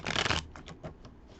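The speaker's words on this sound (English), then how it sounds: "Shuffle, shuffle, shuffle." A deck of reading cards is shuffled in one quick, close riffle burst, followed by a few soft taps and settling flicks.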